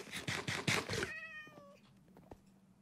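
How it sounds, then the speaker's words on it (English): A cat in the video game Minecraft meows in a short series of close, clear cries, followed by a softer tonal mew that fades into quiet game sounds. "Hey, kitty cat, where are you?"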